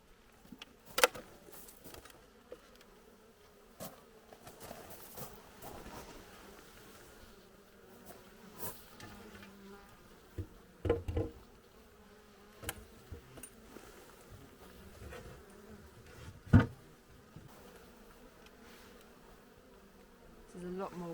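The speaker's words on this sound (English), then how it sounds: "There's a lot more bees on this bottom bit" Honey bees hum and buzz around an open hive as comb is drawn out, a soft continuous drone with individual bees flying close past the microphone now and then.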